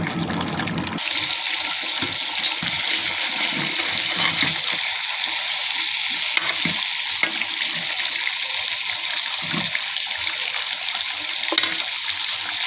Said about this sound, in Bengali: তো আমি আরও ভালো করে কষিয়ে নিব, পানিটা একেবারে শুকিয়ে নিব।